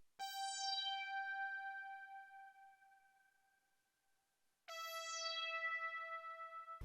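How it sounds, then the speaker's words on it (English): A mini Rick synth lead from the Purity plugin plays a simple sparse melody, one bright sustained note ringing and fading before a second note enters, with no talking. "I added in this mini Rick lead from Purity"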